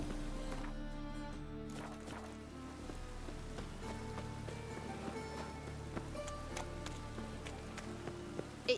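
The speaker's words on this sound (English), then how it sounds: "It just rains and rains." Steady rain in the video game The Witcher 3, a continuous soft patter of drops on surfaces that stays quiet and even throughout, with faint game ambience beneath.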